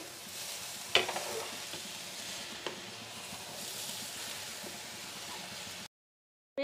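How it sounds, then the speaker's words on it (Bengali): Carrots for carrot halwa cooking in a pan, a steady close sizzle with a few stirring scrapes and clinks, then an abrupt cut to silence near the end. "গাজর রান্না করার মধ্যেখানে আমি একবার নেড়ে দিচ্ছি।"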